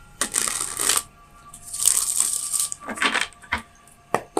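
Tarot cards are shuffled by hand in several quick riffling, slapping bursts separated by short pauses, close and crisp, with no speech.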